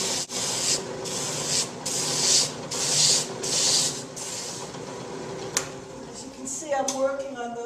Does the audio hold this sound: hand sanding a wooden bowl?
yes